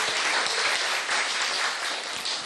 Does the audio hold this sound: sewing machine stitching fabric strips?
no